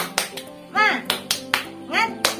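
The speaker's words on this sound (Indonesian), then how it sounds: "Tepuk semangat." Primary school class doing a rhythmic cheer clap, sharp group claps landing in a patterned beat, alternating with children's voices chanting between the claps.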